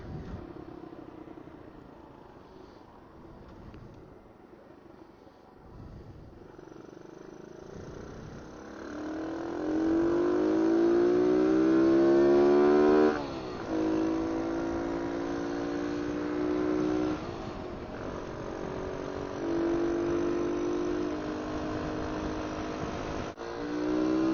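Motorcycles cruising at about 45 mph, the engine note climbing steadily through the gears and holding as a loud, sustained drone, with a gear change partway through.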